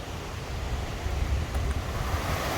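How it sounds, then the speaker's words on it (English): A river in spate after rain rushes steadily near Ritson's Force waterfall in Wasdale, a continuous broadband roar of moving water with some wind buffeting, close and fairly loud throughout. "So the river is looking fairly well in spate after some rain yesterday."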